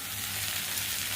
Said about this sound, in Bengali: 1 চামচ হলুদের গুঁড়ো, ভালো করে মশলাটা একটু কষে নেবো।